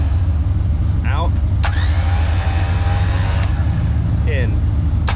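A Harbor Freight Badlands ZXR winch motor spools out for roughly two seconds, a whining electric drone over a loud, constant idling engine, with short bursts of speech before and after.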